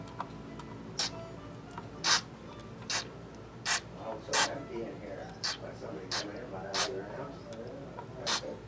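Short hissing bursts of aerosol contact cleaner sprayed into the tube socket pins of a 1953 Fender Tweed Pro amplifier, about ten quick spurts in an irregular rhythm, close and fairly loud over a low steady hum.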